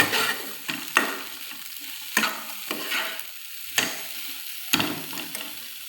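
Light stirring of carrots through a boiled chickpea dish in a pan, with soft scraping strokes repeated about five times over a low sizzle, close and fairly quiet.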